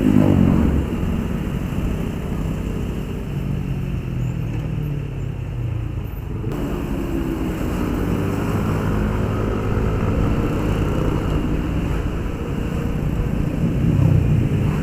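A 2020 Yamaha Aerox 155 scooter climbs uphill on a road, its engine droning steadily under load with continuous wind rumble, loud and close for the whole ride.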